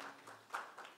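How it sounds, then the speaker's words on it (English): A church congregation claps in praise for prayer warriors, a faint, short scattering of hand claps with a few separate louder slaps. "Give them a hand clap of praise."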